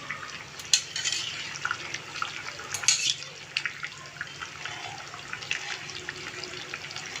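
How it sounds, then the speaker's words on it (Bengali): Chicken curry simmering uncovered in a pot, a low, busy bubbling and crackle that runs steadily throughout at moderate volume with a few brief louder spurts. "আর এইদিকে দেখুন মাংসটা ফুটতে শুরু করেছে"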